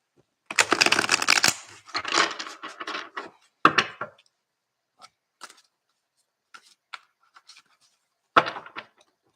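Tarot cards are shuffled by hand, opening with a long riffling burst, then several shorter shuffling runs and scattered soft taps and clicks, close and clear against near silence.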